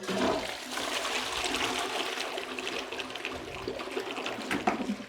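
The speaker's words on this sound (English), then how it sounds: "now we'll flush it and see how much it cleaned." A toilet flushes after its stained bowl was cleaned with CLR, giving a continuous rushing, gurgling wash of water that runs for several seconds, fairly close and alone.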